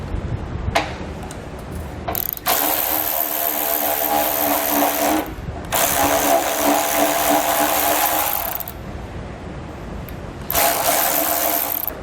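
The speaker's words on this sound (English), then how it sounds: "We'll take a 13mm socket." A ratchet fitted with a 13mm socket loosens bumper bolts on a 2017 Ford, producing loud bursts of rapid clicking that start and stop in several spells, with short quiet gaps between.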